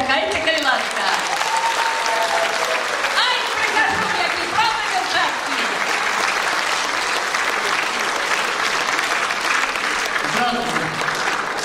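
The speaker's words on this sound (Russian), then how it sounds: "Спасибо за аплодисменты" Dense, loud audience applause at a garmon (Russian accordion) folk music gathering in Minsk, sustained steady clapping across the whole stretch with some voices mixed in.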